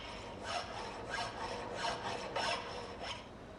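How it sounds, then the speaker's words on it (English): Coarse file rasping across a piece of mild steel in a workshop, a steady series of about seven scraping strokes, each a gritty hiss, close and clear with no talk. "Filing this piece of mild steel removes a lot of material with each stroke."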